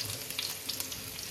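Garlic hits hot oil in a pan and fries with a soft, continuous crackling sizzle, close but quiet, over a brief stretch with no voices.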